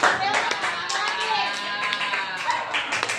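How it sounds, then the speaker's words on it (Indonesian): Children in an Indonesian classroom clap their hands together, a dense patter of claps running throughout, mixed with lively children's voices and a teacher talking over them. "Tepuk tangan dong."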